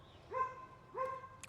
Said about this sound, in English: Always a dog barking on our conversations.